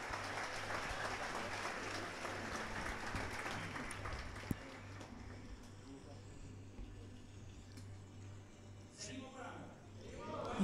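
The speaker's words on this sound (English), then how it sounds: "How many of you give a great round of applause to the King of Glory?" A church congregation claps and cheers during a sermon, a loud mixed wash over low hum that fades and thins after the middle, with a few scattered sharp claps and stray voices near the end.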